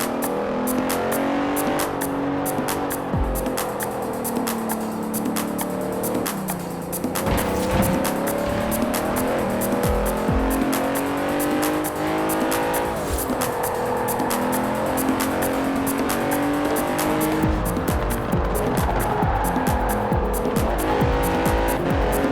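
A 2017 Bentley Continental Supersport, an all-wheel-drive performance car in the video game Forza Horizon, roars through sustained acceleration and gear shifts, its engine note rising and falling repeatedly with tire squeal, loud and close throughout.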